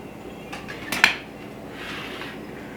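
Gluten-free zucchini bread shaken loose in a metal baking pan gives a few rattling knocks, then one sharp clink, followed by a soft slide as the loaf drops out; close and brief, with no talk.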